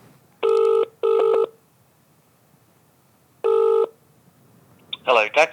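Telephone keypad dialing tones, three loud steady beeps with pauses between them, followed by the start of a ringing tone as a call to a taxi company is placed.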